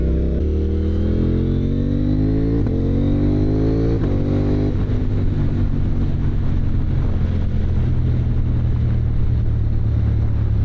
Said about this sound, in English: car coming, I'll get in front